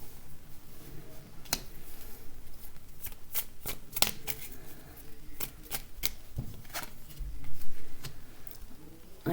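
Tarot cards being shuffled by hand, a continuous papery riffle with sharp snapping flicks and taps at irregular intervals, close and fairly loud, with no talk.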